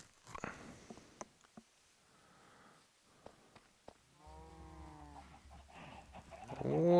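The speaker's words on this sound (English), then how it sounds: "What are you doing, chicken?" A Minecraft chicken clucks a few short, soft times amid footsteps and clicks of gameplay, fairly faint, with no talk.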